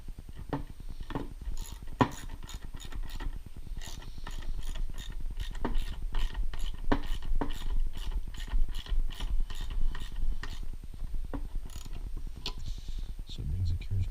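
A carriage bolt with a spring nut is tightened on a heat pump roof frame, giving a steady run of rapid ratcheting clicks, close and continuous, with no talk.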